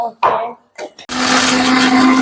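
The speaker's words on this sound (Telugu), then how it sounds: "ఈలోపు ఇది మిక్సీ పట్టుకుంటాం." A kitchen mixer grinder whirs loudly and steadily as it blends a masala paste for head curry, starting abruptly after a few brief knocks and handling sounds.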